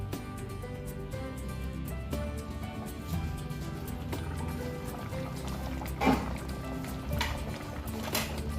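Cebu-style pork ribs caldereta boils in a pot, giving a steady close bubbling and simmering that runs throughout, with a couple of slightly louder pops near the end.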